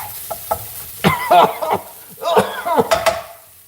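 Curry ingredients sizzle and catch in a hot pan, with bursts of stirring and scraping and a couple of coughs from the cook over a steady frying hiss.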